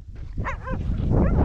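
A herding cowdog gives short whimpering yelps and a bark-like whine, a quick close cluster of rising cries over a low rumble of background noise.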